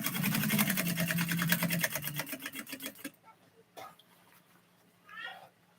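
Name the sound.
sewing machine sewing folded fabric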